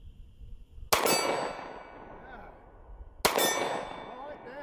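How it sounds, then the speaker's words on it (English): .45 ACP +P pistol rounds striking a steel target, two sharp ringing clangs a couple of seconds apart, each with a bright metallic ring that decays slowly. "Let's take a few shots at that steel."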